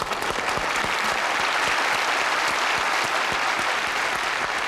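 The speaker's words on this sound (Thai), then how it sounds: "ปรบมือให้กับความเก่งกาจของเมืองไทยเราด้ วยนะฮะ" Studio audience applause on a Thai television show, a dense and steady roar of many hands clapping at once that stays even throughout.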